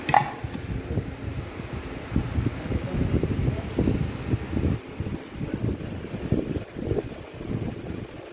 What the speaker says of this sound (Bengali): ফ্যানটা চালিয়ে নিয়েছি